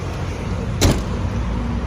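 A single short thunk or latch click comes as the rear door of a black 2011 Nissan X-Trail 2.0 automatic is opened, set against steady outdoor background hum.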